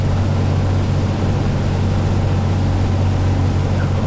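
A Cessna engine drones loudly and steadily in the Prepar3D flight simulator, a constant close-up propeller roar with no clear change and no voices.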